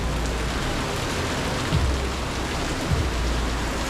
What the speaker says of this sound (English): We just finished up lunch, and look at this rain.